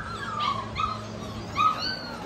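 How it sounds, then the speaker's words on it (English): Dogs, XL lilac tri male puppies among them, whimper and yip in a few short high cries close by, with no talk over them. "I'm out here with my dogs today."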